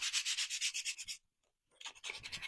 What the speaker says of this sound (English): let me sand these really quick